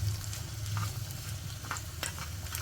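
Crushed garlic and dried red chillies frying in a pan for a lentil sprout curry, with a soft, moderate sizzle, a low background hum and a few sharp scrape-like clicks of stirring.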